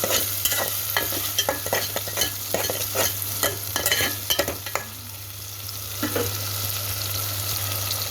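Greens sizzle in oil with salt and chilli in a pan for a curry, a steady frying hiss broken by a quick series of sharp scraping stirs that thin out, with a low hum underneath.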